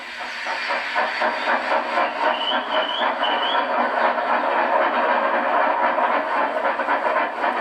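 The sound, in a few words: train running on rails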